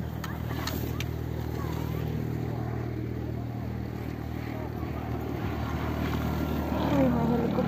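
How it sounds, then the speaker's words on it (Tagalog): A helicopter flies over a ski slope at Zell am See, producing a steady, moderately loud rotor and engine drone that continues throughout, with voices talking over it. "Uy, may helicopter."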